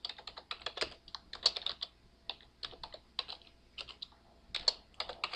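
Typing on a computer keyboard at a desk, quick irregular clusters of light key clicks close by, with brief pauses between bursts in an otherwise quiet room.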